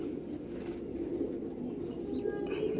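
Young Golden Ice pigeons coo softly and steadily at close range, a low continuous murmur with faint chirps near the end and no talking.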